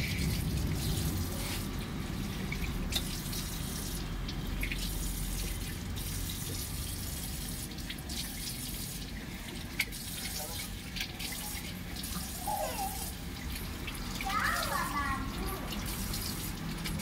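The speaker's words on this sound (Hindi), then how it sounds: "फेस को भी मैं अच्छे से वॉश कर लेती हूँ" Water running steadily from a tap while someone washes their face, a continuous faint splashing stream with a few small drips and clinks, with someone speaking softly over it.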